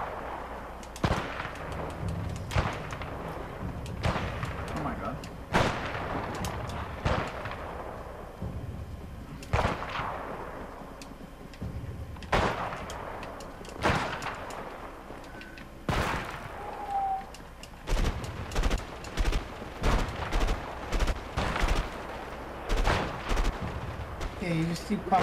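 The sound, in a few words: gunfire from a sniper shootout in the video game A Way Out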